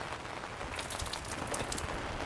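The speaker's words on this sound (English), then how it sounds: "And yes, it did start raining." Steady rain falls outdoors as a constant soft hiss of drops, faint and continuous without any voices.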